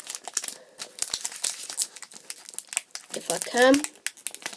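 Plastic wrapper of an RSPCA Pets & Creatures trading card pack being crumpled and torn open close up, with dense, irregular crinkling bursts throughout while a person briefly talks over it.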